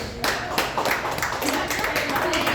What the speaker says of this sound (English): Can we give a round of applause for the scientists and teachers?